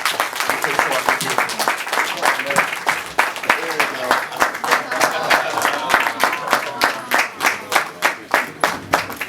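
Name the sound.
applause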